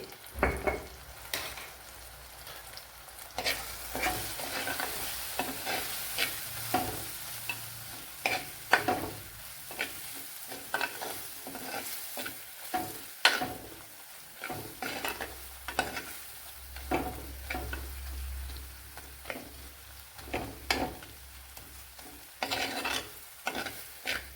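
Ground coriander and Kashmiri chilli powders fry in a pan for Tamil-style garlic kuzhambu, a soft continuous sizzle broken by repeated scraping strokes of a spoon against the pan in an uneven rhythm.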